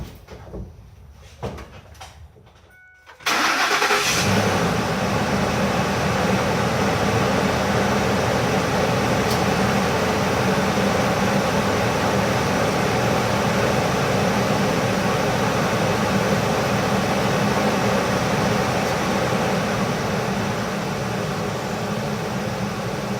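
A Ford 5.4 3-valve V8, just fitted with a new timing chain and cam phasers, gives a few soft clicks before the engine catches and then idles steadily with a loud, even drone that continues unbroken.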